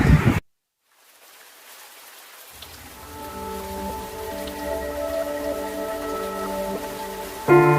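Steady rain patters on surfaces after a brief silence, and a soft sustained tone joins in partway through.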